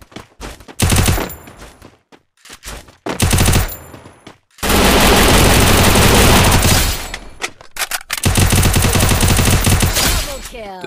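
UMP submachine gun fire with a muzzle in the mobile battle royale game Free Fire, loud rapid bursts separated by gaps, then a long sustained stretch of automatic fire and a final run of shots.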